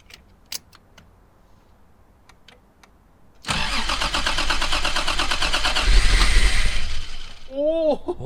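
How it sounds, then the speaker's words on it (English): An 80s Toyota Supra turbo engine cranks and fires loudly after a few seconds of quiet clicks, running roughly for several seconds before cutting out, followed by a short whine. "Alright, fired that once and then it stopped."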